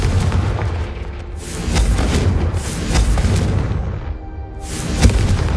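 Repeated heavy booming blasts of the Confringo fire spell in Hogwarts Legacy, several loud explosive bursts over a dense rumbling game background, the last one sharpest.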